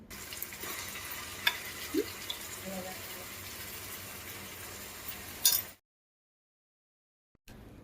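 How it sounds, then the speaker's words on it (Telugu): Onions sizzle in a pan with ginger-garlic paste for a Nattu Kodi (country chicken) curry: a steady, close frying hiss with a few light clinks that stops abruptly near the end and leaves a short silence. "ఇప్పుడు ఇందులో మూడు టీ స్పూన్ల అల్లం వెల్లుల్లి పేస్ట్ వేసి పచ్చివాసన పోయేంత వరకు వేగనిద్దాం"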